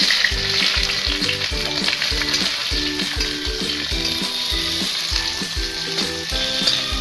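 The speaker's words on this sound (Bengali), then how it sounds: "এবার আমরা পেঁয়াজের কুচিগুলো দিয়ে দিচ্ছি।" Chopped onions sizzle in hot oil with cardamom and cloves in a pan for Bengali chicken curry: a loud, steady crackle broken by regular scraping stirs of a spoon, with no talking.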